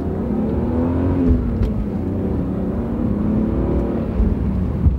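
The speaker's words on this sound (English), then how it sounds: "we'll get around the corner, and we'll step on the gas." A BMW six-cylinder car accelerates after rounding a corner, its engine giving a smooth, steady drone with a slowly rising tone, heard loud from inside the cabin against road and wind noise, with no talking.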